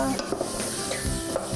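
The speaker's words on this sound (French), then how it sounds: "Mélanger." Spices are stirred in a pan with a soft scraping and a light sizzle underneath, a brief and fairly quiet burst of mixing.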